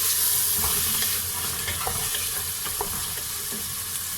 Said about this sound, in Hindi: अब हम इसके अंदर चने डाल देंगे। चनों को हल्का सा 30 सेकंड के लिए भूनेंगे।